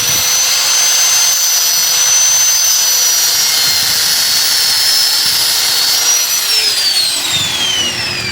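A power sander cuts the excess off a lock pin on a line-release trigger mechanism, giving a loud, steady, high-pitched grinding whine that runs unbroken throughout with no voices.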